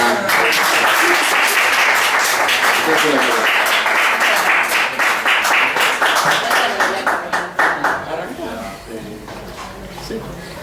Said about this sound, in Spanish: usted se merece un gran aplauso de nuevo porque es una luchadora